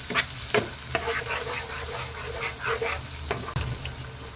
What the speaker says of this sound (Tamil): இப்போ இதையும் நல்லா வதக்கி விட்டுடலாங்க